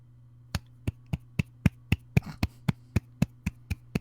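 A soft, steady series of about a dozen light claps, evenly spaced and unhurried, with no talking.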